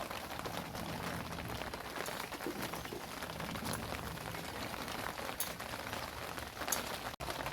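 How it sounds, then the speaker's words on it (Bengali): Rain falls again outside during cooking, a quiet, steady hiss with faint scattered patter and no voices. "এই দেখুন আবার বৃষ্টি নেমে গেছে।"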